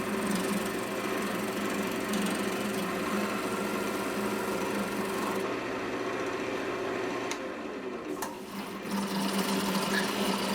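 A wood lathe spins a locust wood lidded pot blank while a gouge rides the bevel, giving a steady, continuous whirring hum with a scraping cutting texture, loud and close, with no talk.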